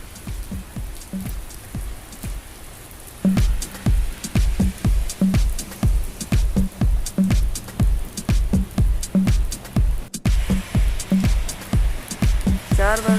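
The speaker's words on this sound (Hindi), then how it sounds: "बारिश मुसलसल बरस रही है।" Heavy rain pours steadily in Makkah, drumming hard on a surface with a rhythmic pattern of drips and splashes, loud and close throughout.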